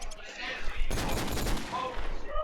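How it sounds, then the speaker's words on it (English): Sustained automatic AK rifle spray in a Counter-Strike match at a LAN playoff, a dense burst of rapid gunfire kicking in partway through and running to the end under a caster's voice. "spamming his AK, gonna be giving his position away for Robert to kill him"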